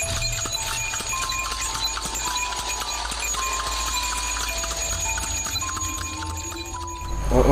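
Hooves of a horse-drawn carriage clip-clop in a steady rhythm alongside a faint metallic jingle, moderately near and continuous, with a louder swell at the very end.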